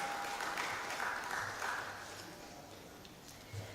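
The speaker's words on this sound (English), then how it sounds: "a round of applause." Audience applause for a deputy director representing an official at a ceremony before an official draw. Steady clapping at a fairly low level that gradually thins and softens over a few seconds.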